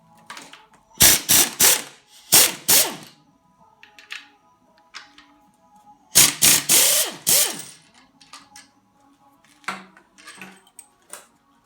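Ratchet backing out alternator bolts on a Chrysler 3.5 engine, loud close bursts of rapid clicking in several separate runs, with quieter metallic handling between them.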